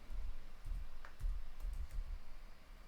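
Quick, light keystrokes on a computer keyboard as a command is typed, with soft irregular clicks close by in a quiet room and no talking.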